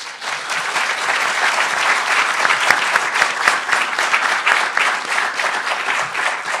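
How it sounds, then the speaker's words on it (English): An audience at a school board debate gives loud, sustained applause, dense overlapping claps filling the room without a break. "applause."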